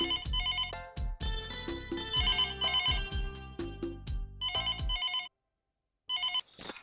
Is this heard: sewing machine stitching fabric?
no